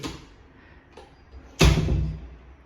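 A faint click or two, then a solid thump as a door swings open, followed by a brief rumble of movement nearby.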